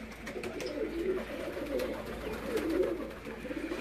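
Soft, rolling coos from a Jugnu-breed pigeon repeat in gentle swells, close and moderately loud, with faint background rustle and no talking.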